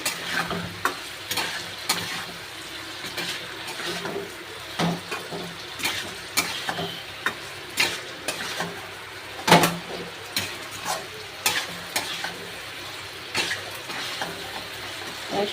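Prawn and potato curry being stir-fried in a pan: a constant close sizzle broken by frequent rhythmic scrapes and knocks of the spatula against the pan.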